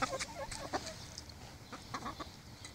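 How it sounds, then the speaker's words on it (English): Pet chickens cluck softly and irregularly nearby, a scatter of short low clucks and brief higher notes with no talking. "He was trying to peck Shadow again"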